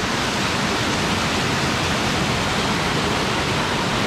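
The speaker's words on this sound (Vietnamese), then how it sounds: "Suối vô cùng to này" A large mountain stream rushes in the Vietnamese highlands, a dense, unbroken roar of water heard close and loud throughout, with no voices.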